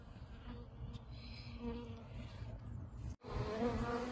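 Honeybees hum steadily around an opened hive during an early spring inspection, a dense close buzz with a brief gap near the end before the swarm drone returns louder.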